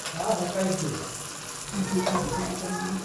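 Asafoetida, onion and tomato hit a hot pan and sizzle briefly, a close, steady frying hiss with some clatter and background noise for a few seconds.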